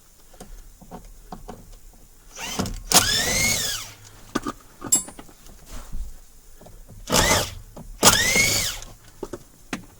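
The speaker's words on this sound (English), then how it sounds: "We're going to go ahead, take out the 3 Phillips screws." Three Phillips screws coming out of the steering column cover of a 2006-2014 Honda Ridgeline, with two pairs of short, whirring bursts from a powered screwdriver, rising and falling in pitch, separated by quiet handling clicks.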